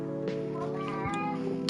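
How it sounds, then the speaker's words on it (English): Cat meowing in the video game Coffee Talk, a couple of short mewing calls over a sustained musical background, fairly close and clear. "Cat being crazy."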